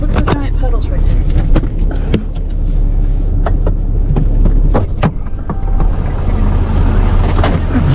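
Truck driving down a muddy trail with giant puddles in the Smoky Mountains, its engine throbbing low under bursts of splashing and sliding, with voices talking over it.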